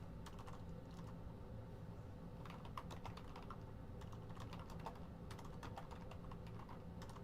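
Rapid, steady typing on a computer keyboard, a constant run of light clicks through a backdrop of room noise, faint and close with no talk.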